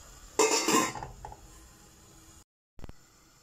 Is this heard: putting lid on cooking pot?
yes